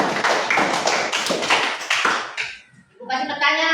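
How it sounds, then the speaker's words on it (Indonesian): A class claps hands in applause, a quick run of sharp, rhythmic claps for a couple of seconds in a classroom, fading out as a teacher starts talking. "kasih tepuk tangan"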